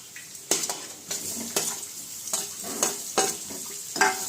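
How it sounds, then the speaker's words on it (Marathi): Sliced potatoes tipped into a hot pan with turmeric and stirred, giving repeated scraping, clattering strokes of a spoon against the pan over a steady sizzle, about eight sharp stirs in a row, close and fairly loud. "हळद टाकून हलवल्यानंतर आता आपण त्याच्यामध्ये जे आपले कट केलेले बटाटे आहेत, तर ते बटाटे टाकून घेऊया"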